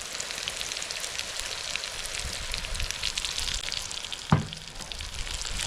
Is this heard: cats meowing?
no